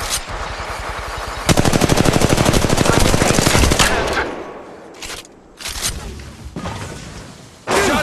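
Gunfire in the mobile video game Apex Legends: a loud, sustained automatic burst of rapid shots, then scattered single cracks and short volleys after a lull.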